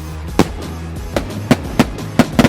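Small consumer fireworks from a 200-gram class going off outdoors, with six sharp popping bursts at uneven intervals over a steady low rumble of fizzing.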